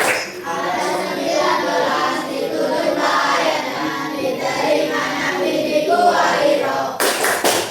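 A class joins in a Quran clapping chant on Surah Al-Alaq, with rhythmic hand claps mixed into group chanting voices, steady and fairly loud throughout before a brief sharp burst near the end.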